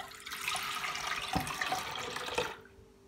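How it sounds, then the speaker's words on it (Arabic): Milk pours into a cooking pot for a pasta and milk dessert, a steady close liquid splashing lasting about two and a half seconds before stopping. "اول شي بحط الحليب"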